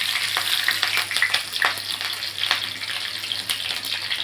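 Green chillies hit hot oil with mustard and cumin seeds, a loud, close, continuous crackling sizzle with bursts of sharper spitting.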